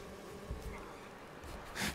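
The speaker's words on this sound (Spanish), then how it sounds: "Van a matar las putas abejas." Bees in The Witcher 3: Wild Hunt give off a faint, continuous buzzing hum, with a slightly louder swell near the end.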